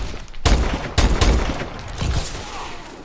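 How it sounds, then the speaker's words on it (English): Gunfire in Call of Duty: Advanced Warfare, a burst of loud close shots with several sharp cracks in quick succession, followed by a rolling rattle of further shots over about three seconds. "someone's shooting at me!"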